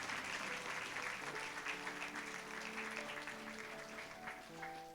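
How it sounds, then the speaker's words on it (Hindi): Sustained applause from a church congregation during a Sunday worship service, a dense steady wash of many hands clapping with faint musical tones underneath. "एक बार जोर से ताली बजाइए"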